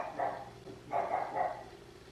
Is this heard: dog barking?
yes